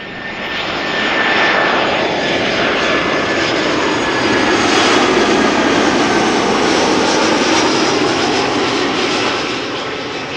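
A fixed-wing airliner arrives at Amsterdam Schiphol Airport on runway 27, its loud, close engine roar swelling, holding steady and broad, then easing slightly near the end.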